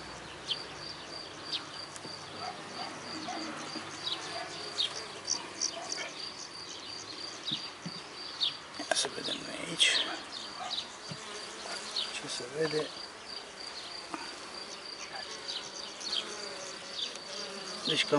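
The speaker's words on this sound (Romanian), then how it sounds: "Deci cam așa arată un stup bezmetic." A queenless honeybee hive, its bees agitated, fills the air with a dense, steady buzzing hum close by, with a few brief louder swells and occasional handling noises, and no voice over it.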